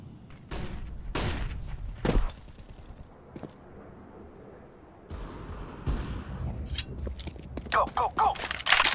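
Flashbang grenade pops and bursts of gunfire in the video game CS:GO, loud sharp reports early on and again near the end, with scattered shots and game noise between them.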